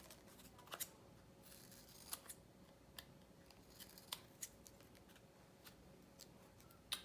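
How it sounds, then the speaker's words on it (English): Scissors cutting paper pieces for a DIY unicorn journal craft, with a series of quiet, sharp snips spaced irregularly over a soft background and no talking. "I'll just cut the second one."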